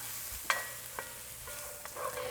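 Fennel sausage browns in a pan on the stove with a soft, steady sizzle, broken by a few sharp clicks and scrapes from stirring, close and with no talk.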